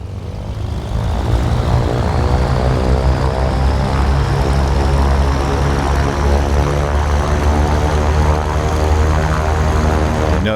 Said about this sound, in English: we're gonna taxi to the left here